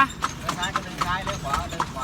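Horse hooves clip-clop in a steady, even rhythm as a horse pulls a cart, clear and close while people talk over the sound throughout.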